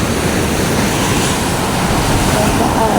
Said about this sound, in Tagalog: May kalbog-kalbog ng alon.